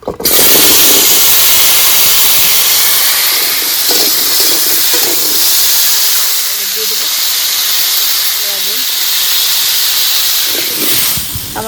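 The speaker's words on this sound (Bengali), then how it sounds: "কড়াইতে তেল আছে ওর ভেতরে তরকারিটা বসিয়ে দেবো" Loud, steady sizzling hiss of a vegetable curry frying in hot oil in a kadai, continuous throughout, with brief faint voices underneath.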